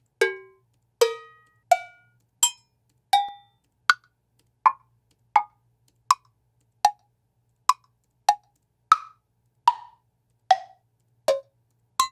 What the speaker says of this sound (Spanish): Este es el folder de los cincerros.